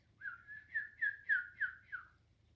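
A voice imitates a penguin chick's call with a run of six or seven short, rising-and-falling whistles in quick, steady succession, fairly soft and with nothing behind it.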